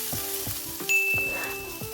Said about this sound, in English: Now heat the olive oil in the pan and saute the onions.